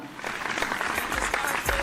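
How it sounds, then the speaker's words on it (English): Audience applause fills a televised singing competition stage as a contestant named Brian heads backstage, a dense steady clapping from a sizable crowd lasting about two seconds, fairly loud and uninterrupted. "Round of applause for Brian as he heads backstage"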